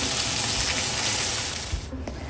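Pork ribs with BBQ seasoning pan frying in a wok, giving a steady, close, dense sizzle throughout, with a brief softer dip near the end.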